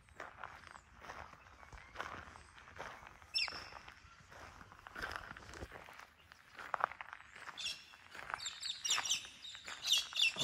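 Birds chirp and tweet through a quiet foggy morning outdoors, with scattered calls of moderate loudness over soft shuffling or footstep-like noises and a faint background hum.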